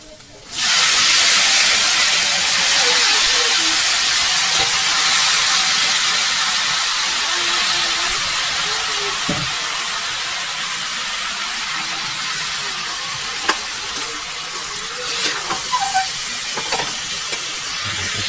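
Pork for pinatuyong adobo hits a hot pan with a loud, sudden sizzle and hiss that stays steady and broad, easing slightly over time with a few small pops and crackles near the end.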